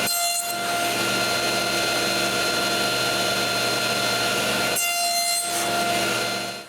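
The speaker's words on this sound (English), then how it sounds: "I can cut a bunch of splines wider than the thickness of the sides." A power saw whines steadily as it cuts wooden splines for a serving tray, a loud, continuous tonal buzz that briefly changes character near the end as the blade clears the workpiece before winding down.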